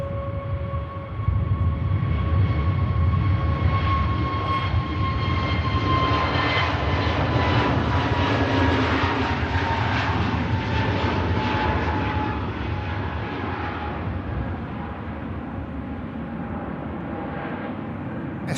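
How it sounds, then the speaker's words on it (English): An EasyJet Airbus A321 departs Manchester Airport for Amsterdam Schiphol, its jet engines giving a loud sustained roar with a whining tone that slowly bends in pitch as the plane passes, no voices over it. "This aircraft heading to Amsterdam, Schiphol."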